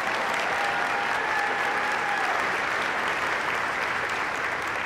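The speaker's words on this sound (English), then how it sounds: "So give them a round of applause." Steady, dense applause from a large audience at a high school graduation ceremony, continuous and even across the whole stretch, with no break.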